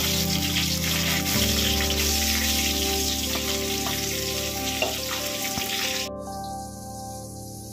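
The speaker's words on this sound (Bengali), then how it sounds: "প্রথমে আমি ল্যাটা মাছগুলোকে ভেজে নেব," Lata (spotted snakehead) fish frying in hot oil in a pan, a steady close crackling sizzle with busy popping throughout, easing off toward the end.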